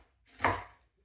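A knife chops cabbage on a cutting board for coleslaw, a single soft thud-and-crunch stroke heard close and fairly quiet, with no talking.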